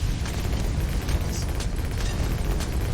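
Explosions in the tower defense game Bloons TD 6, a dense, continuous low rumble of overlapping blasts and pops that fills the whole stretch at steady loudness, with no talk.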